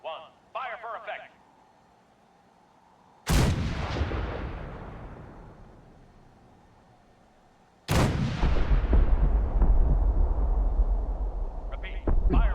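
Artillery batteries fire a barrage in Fallout 4, with two huge booming blasts whose long rumbling decay rolls away into the distance. A short radio voice comes before the blasts and another comes at the end.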